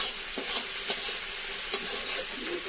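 Fried shrimp stirred into a sizzling spice paste, a steady close sizzle broken by a few sharp scrapes and clacks of a spoon against the pan, with no talking.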